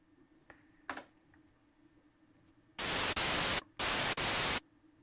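Bursts of full white noise from the noise oscillator of a Melbourne Instruments Delia synthesizer switch on and off in four loud, even blocks after a few quiet clicks of a knob or control.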